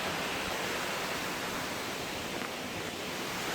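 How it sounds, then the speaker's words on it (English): A waterfall near the Tilkeshwar Mahadev temple makes a continuous broadband rush of falling water, steady and even throughout with no other sounds. "You can see one waterfall coming here."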